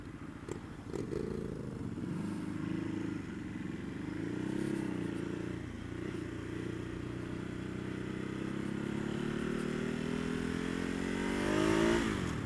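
2017 Ducati Hypermotard 939 motorcycle ridden on back roads near Ilkley, its engine droning steadily with rising and falling revs and a climb in pitch near the end, heard from the rider's position.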